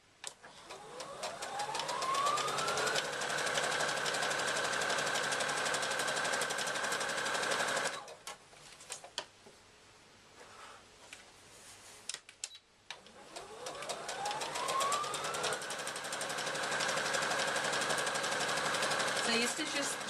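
A sewing machine stitches a handbag in two long, loud, steady runs, each winding up in pitch as it speeds, separated by a quieter pause with light handling noise.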